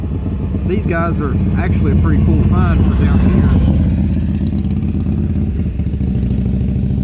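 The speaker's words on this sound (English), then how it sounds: "Had to quit talking there, a motorcycle just passed us." A motorcycle engine roars past close by on a road in Tennessee, loud and steady before fading away, while someone talks over the start of it.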